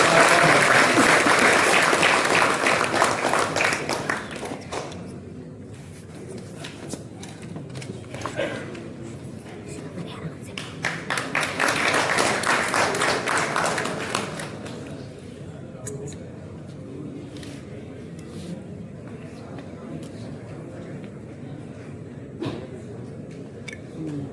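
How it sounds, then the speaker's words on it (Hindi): An audience claps through a loud burst of applause at the Bihar Pratibha Samman Samaroh award ceremony honoring selected civil services candidates, fading and then swelling again in a second wave before quieter stretches with scattered claps. "आप ताली बजाते रहिए फोटोग्राफरों का।"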